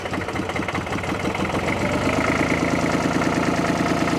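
A 1957 Porsche P133 diesel tractor engine running at idle, a steady rhythmic chugging knock with mechanical clatter, close and moderately loud.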